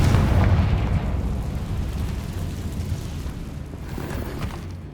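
A Confringo spell blast in Hogwarts Legacy erupts as a deep, heavy boom with rumbling debris that slowly decays over several seconds, close and loud.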